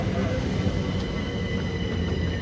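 A train rolling along the tracks at speed, a loud steady rumble with wheel and rail noise close by, continuous with no talking.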